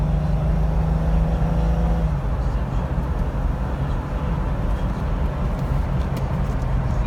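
A 2006 Jeep Wrangler LJ with about 51,000 miles cruising on the road, a steady low engine drone and tire rumble throughout, with a lower tone shifting about two seconds in.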